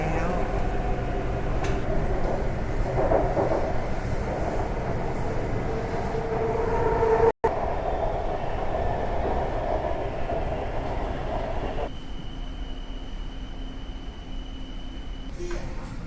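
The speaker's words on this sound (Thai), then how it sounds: "เราถ่ายโฆษณานี้จากในรถไฟฟ้า BTS ค่ะ" Steady rumble of a moving BTS Skytrain in Bangkok heard from inside, wheels droning on the track, with a brief sharp dropout partway and a faint tone later; no clear talk.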